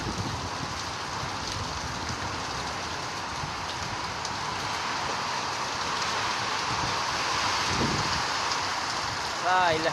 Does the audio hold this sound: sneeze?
no